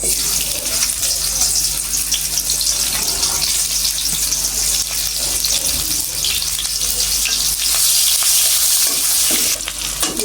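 Onions fry in a pan with a loud, continuous close sizzle and hiss, with faint stirring scrapes throughout and no voices over it.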